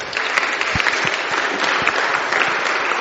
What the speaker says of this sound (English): Let's give Ty a round of applause, thanks.